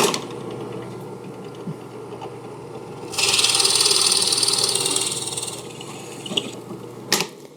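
Drill with a Forstner bit boring mortise waste out of wood, a few seconds of close, loud whirring and chewing under a low motor hum, followed by a couple of sharp knocks.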